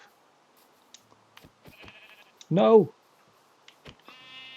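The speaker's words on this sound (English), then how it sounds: "Let's get the sheep." Minecraft sheep gives a single short bleat midway, clear and close, among scattered game clicks and footsteps, while a person speaks briefly.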